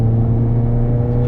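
A retro car with a 1.2 litre Punto engine and a loud aftermarket exhaust drones at a steady, low, rumbling pitch close by, heard alone.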